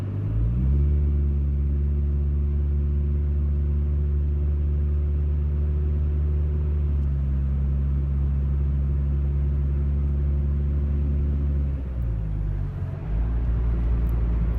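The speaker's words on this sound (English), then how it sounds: "testing the drone difference here in my car" A steady, loud low-pitched exhaust drone from a car under acceleration, holding its tone for several seconds before shifting pitch near the end; no voices.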